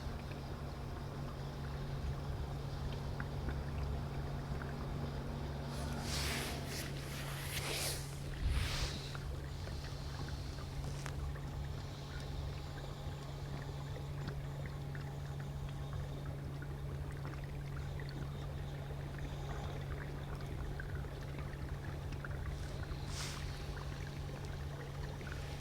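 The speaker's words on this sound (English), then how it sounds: "Sound like that's a working boatyard, there's people working." Steady low mechanical hum across a working riverside boatyard on the River Ant, Norfolk, with a few brief clattering knocks and bangs of work partway through; no talking.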